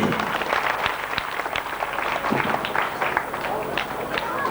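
An audience at an evening cultural programme claps in a dense, continuous burst of applause at close range, with voices mixed in beneath the clapping.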